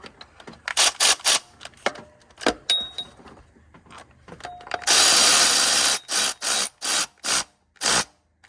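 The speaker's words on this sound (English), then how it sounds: "We're just gonna snug them up with the Milwaukee" A Milwaukee power tool snugs water pump bolts on a third-generation 5.9 Cummins engine, giving short repeated bursts of whirring and rattling with pauses between, including one longer sustained run, close and fairly loud.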